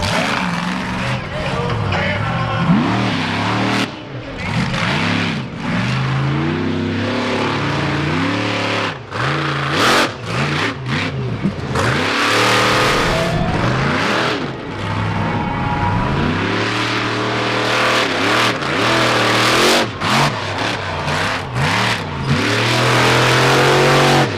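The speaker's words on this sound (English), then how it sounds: "They're carrying some momentum, making some engine noise, but also still driving around" Monster-style 4x4 trucks at a fall 4-wheel jamboree nationals in Indianapolis rev hard during a freestyle run, loud engines surging and falling repeatedly with rising and dropping pitch, crowd noise and an announcer's voice over the roar.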